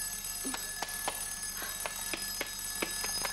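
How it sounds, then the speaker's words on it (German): An alarm clock rings indoors with sharp, evenly spaced metallic ticks or rings, fairly faint and steady, with no talk over it. "Das ist nur der Wecker."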